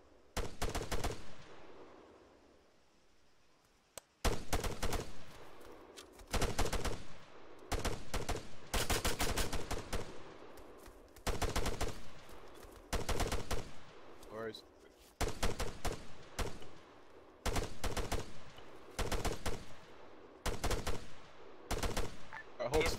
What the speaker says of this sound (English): You know where you're taking fire from?